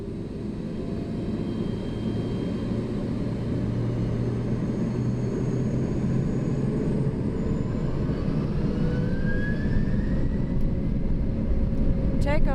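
Lufthansa Cargo MD-11F engines hold takeoff thrust in a steady, loud broadband roar heard from the cockpit, building slightly as the run continues, with a rising tonal whine toward the end.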